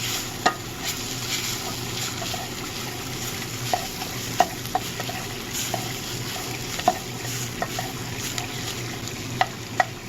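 Ground beef seasoned with chili powder fries in a pan with a constant close sizzle. A spoon stirs it often, scraping and knocking against the pan with sharp taps at irregular moments.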